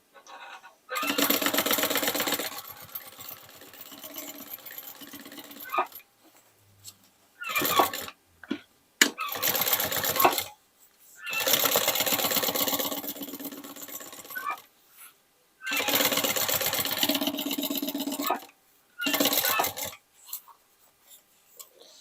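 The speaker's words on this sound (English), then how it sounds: "now let's make some decorative stitching" A sewing machine runs decorative stitching on a bag made from old jeans, in about six loud, steady bursts separated by short quiet pauses and a few clicks, with no talking.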